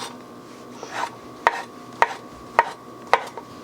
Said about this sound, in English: I have no idea what size to be cutting these mushrooms